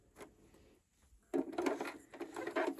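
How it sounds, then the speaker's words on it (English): A sewing machine stitching a button on with a short run of about six to eight stitches starts abruptly after near silence and gives a close, buzzing, rapidly pulsing mechanical chatter. "I'm going to go in with my foot pedal and do probably between 6 and 8 stitches."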